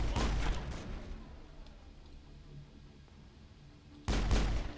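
Sniper rifle fire in Mass Effect, with a loud, sharp burst at the start, a quiet stretch, then another close, forceful shot near the end.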